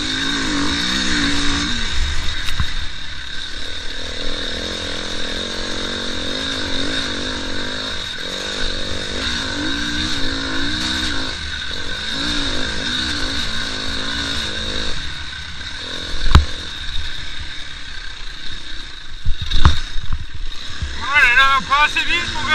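Enduro motorcycles ride during a training day at Loon-Plage, their engines droning and revving steadily with pitch swings as they pass, while wind noise and someone talking run over the top.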